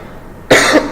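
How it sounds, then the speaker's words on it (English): A single sharp, close cough bursts out after a short quiet pause, loud and alone. "I told you I'll be coughing a lot"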